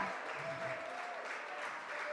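A church congregation claps together in steady, continuous applause, fairly faint and even, with no voices standing out.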